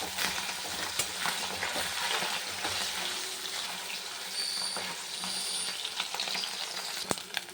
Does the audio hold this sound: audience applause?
no